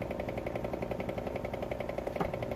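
A small motor driven at half duty cycle by a 555 PWM controller through two MOSFETs, running with a steady, rapid pulsing whir and a fine periodic buzz, close and fairly loud with no talk.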